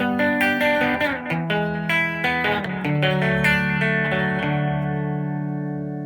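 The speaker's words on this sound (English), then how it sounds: "Okay, preamp overdrive." Electric guitar played through the overdrive preamp of a Mooer PE-100 pocket multi-effects unit, a series of mildly crunchy strummed chords and picked notes, ending with a final chord left ringing and slowly fading.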